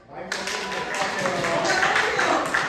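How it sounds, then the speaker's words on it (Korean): A group applauds after a correct answer in a Bible study session. Dense, steady clapping starts abruptly and carries on with talk over it. "박수 쳐주세요"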